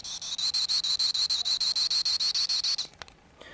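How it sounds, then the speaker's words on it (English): A vintage G.I. Joe electronic toy gun's sound effect: a rapid, evenly pulsing high-pitched buzz that runs for a few seconds, then cuts off into a few small clicks and handling noises. "an electronic gun that actually lit up and made sounds"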